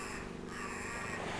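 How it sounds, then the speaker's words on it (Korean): Crow cawing outdoors in Tbilisi, Georgia, a hoarse call heard at moderate distance over constant broadband background noise, with no talking. "네, 까마귀 소리입니다."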